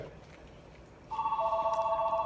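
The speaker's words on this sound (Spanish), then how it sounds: "nos están hablando por teléfono" A telephone starts ringing partway through, a steady electronic trill sounding near but fairly soft over a quiet kitchen background.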